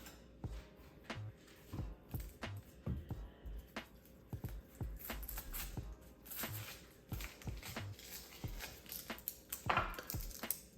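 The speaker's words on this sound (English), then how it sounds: "We're gonna take our yellow onion and we're gonna cut it in half." A knife slices a yellow onion in half on a kitchen board while making miso soup, giving a string of sharp knocks and light clatter against a low background hum, with no talk.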